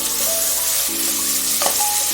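Tomatoes fry in a pan with a steady broadband sizzle, close and even throughout, with a few faint clinks and scrapes of stirring and no talk.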